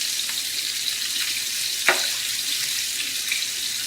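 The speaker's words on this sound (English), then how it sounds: "We can go ahead and put" Water pours into a cooking pot holding a roast seasoned with Worcestershire, producing a steady, close hiss that runs evenly throughout with a faint splash midway.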